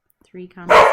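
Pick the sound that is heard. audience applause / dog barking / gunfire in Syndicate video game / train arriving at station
dog barking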